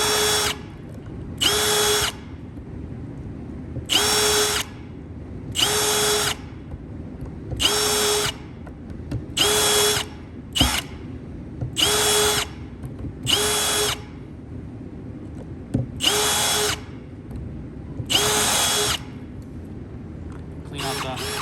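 A power drill bores holes through a jig into a wooden cribbage board: loud, close bursts of high whine, each lasting about a second, repeating steadily across the clip with short pauses between holes.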